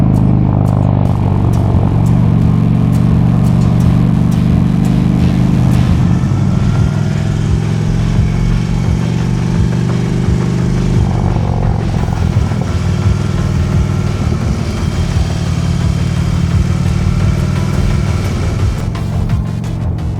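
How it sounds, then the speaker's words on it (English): A motorcycle engine rumbles loudly and continuously up close, its deep exhaust drone rising and falling slightly in pitch throughout. "getting that nice, beautiful exhaust sound that all of us love"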